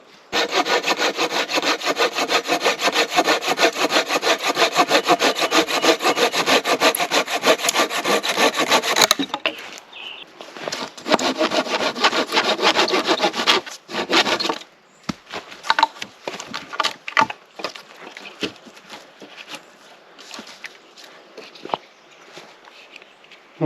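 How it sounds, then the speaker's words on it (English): Steady back-and-forth strokes of a hand saw biting through wood, loud and close, pausing briefly before resuming with more broken, uneven cuts. "that's why I'm using the saw"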